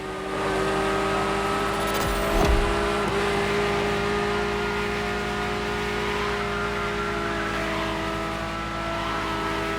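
A high-revving Ferrari supercar engine in a racing video game drones steadily with a sharp burst of noise partway through, loud and close throughout.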